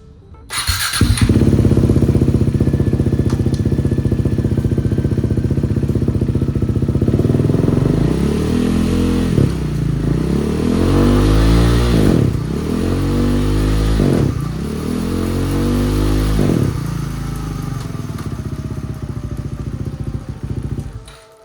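A motorcycle engine revs in fourth gear, loud and close, rising and falling in several repeated sweeps after a sustained steady run.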